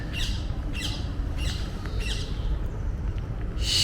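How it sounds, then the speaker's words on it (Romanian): Peacocks give loud, repeated wailing calls in a Lisbon garden, about five sharp nasal cries spaced roughly half a second apart over a low background rumble, with no voices. "și niște păuni"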